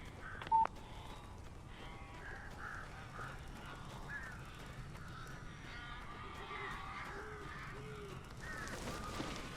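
Crows caw in the Alan Wake video game, with a series of short harsh calls spread across the scene over a low, murky ambient background, and one sharp click near the start.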